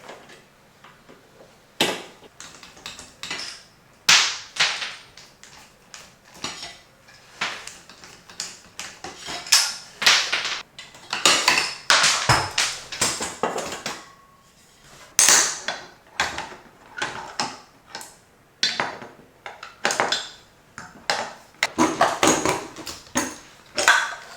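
Household ceiling fan being taken down indoors: scattered knocks, clunks and metallic rattles at irregular intervals, some sharp and loud, with quiet gaps between, and no talking.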